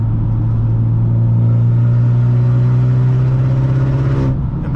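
A 2011 Mitsubishi Lancer Evolution GSR engine pulls hard under turbo boost, a loud steady drone climbing slightly in pitch inside the car before the note drops abruptly near the end, with no talking.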